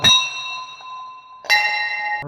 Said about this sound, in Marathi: घंटा वाजा.